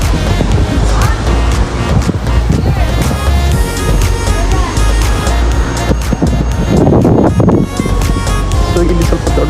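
Sea waves roll and break at Kapu Beach near the lighthouse in Udupi, Karnataka, a loud continuous surf roar mixed with heavy wind buffeting the microphone and a hint of passing traffic.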